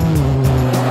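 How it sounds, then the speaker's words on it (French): A 320 hp Peugeot 306 Maxi ice racing car launching, its engine roaring loud and close with a rising note over one second. "les 320 chevaux font un bruit magique quand ils s'animent"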